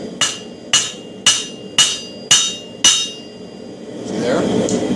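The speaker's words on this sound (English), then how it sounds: "use a round hammer, set your steel up at the angle you want your bevel, and start at the edge of the anvil" A round hammer beveling steel at the edge of an anvil: six evenly paced, ringing metallic blows, close and loud, followed by a softer scraping shuffle.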